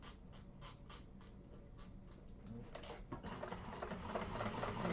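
Sewing machine stitching slowly around the curved section of a bag, a rapid mechanical clatter of stitches in short bursts, then picking up speed into a louder, denser run near the end.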